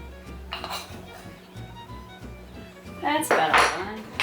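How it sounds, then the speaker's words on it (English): A half teaspoon clinks and scrapes against a bowl while mixing pepper and sugar, light metallic taps growing busier toward the end, with a voice briefly heard over it. "I can't find my little whisk, so I'm going to use my 1/2 teaspoon to mix it around."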